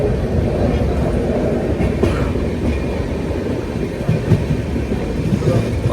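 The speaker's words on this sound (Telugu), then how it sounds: "గైస్ మన ట్రైన్ అయితే స్టార్ట్ అయిపోయింది." A passenger train rolls along just after setting off, heard from inside the coach as a loud, continuous rumble with rhythmic wheel clatter and occasional clunks.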